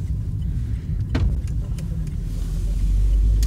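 Cars rolling past in busy traffic, a loud continuous rumble of engines heard from inside a moving vehicle, with a deeper roar building toward the end.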